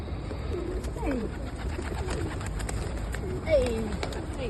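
Pigeons being fed in Stockport coo in soft, low, repeated calls, close by, mixed with outdoor background noise and occasional voices.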